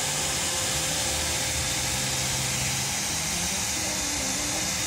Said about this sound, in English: Look how much snow has built up on the ground there from these snow machines.